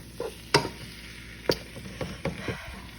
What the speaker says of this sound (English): So I just put the onions and the garlic in with the sausage so it can cook along with it.